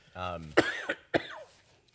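Harsh, abrupt coughs, two sharp bursts close by, following a brief voiced sound from the same person.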